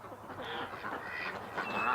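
Ducks quacking and chattering quietly, several soft nasal calls overlapping at a moderate distance in a calm setting.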